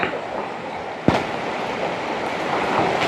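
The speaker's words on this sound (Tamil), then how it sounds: "திடீர்னு மழை வந்துருச்சு, சரியான மழை." Heavy rain pours down on a mountain trail near a waterfall on the Pothigai hills, a dense, steady wash of noise broken by one sharp knock, loud and close, with no one talking.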